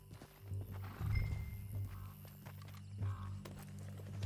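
Horse hooves walking at an easy pace in Red Dead Redemption 2, a steady low clip-clop running the whole time under a bed of game ambience and music.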